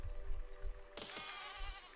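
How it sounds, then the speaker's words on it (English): Sheep bleating in the video game Beisige, faint and low under a busy game soundscape, with a sudden burst of bright mechanical noise midway; no talk heard. "Oh, god, you damn sheep."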